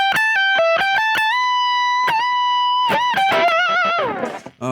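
Distorted electric guitar playing a blues lick of quick picked notes, bends and a held vibrato note, ending in a rapid run, loud and alone with no talking.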